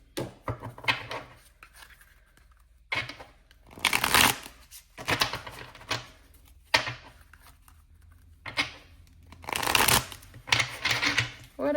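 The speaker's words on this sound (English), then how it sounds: "I think I'm going to end on the tarot, so I'm going to grab some of these cards first" Tarot cards are shuffled by hand close up, giving repeated riffling and slapping bursts with brief pauses between them.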